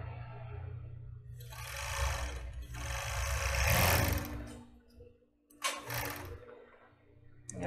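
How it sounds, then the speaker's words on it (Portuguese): A sewing machine stitching lace onto children's underwear runs in loud bursts of rapid mechanical whirring with pauses between, close by, with faint background hum and no talking. "Costurar desse lado aqui."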